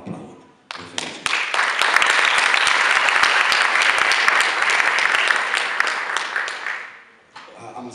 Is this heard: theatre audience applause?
yes